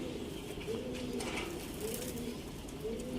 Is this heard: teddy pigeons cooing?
yes